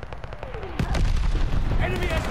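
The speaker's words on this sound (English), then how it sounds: "They're sending mortar shells!" Incoming mortar shells in Call of Duty: Vanguard, a descending whistle followed by heavy booming impacts and sustained rumbling blasts amid dense battlefield noise.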